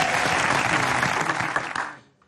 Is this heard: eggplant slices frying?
no